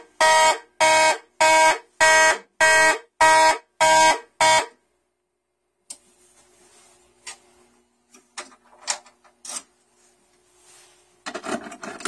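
A Simplex 2001 fire alarm control panel goes into alarm with eight loud, evenly spaced horn pulses, then falls silent before soft handling, rubbing and clicking noises take over.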